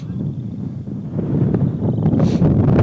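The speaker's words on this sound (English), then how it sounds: "there's a gust of wind. You can probably hear that one." A gust of wind blows across an outdoor baseball field, a rough buffeting rush against the microphone that builds and grows louder toward the end, with no talk over it.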